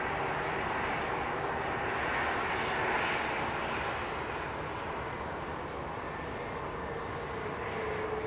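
A jet airliner takes off from runway 27R, its engine roar loud, broad and sustained throughout, holding a steady rumble with no talk.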